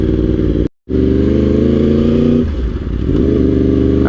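A Yamaha R1 motorcycle drops off cruise control and slows, its loud engine hum holding steady before sagging and wavering as it decelerates, following a brief cut in the sound.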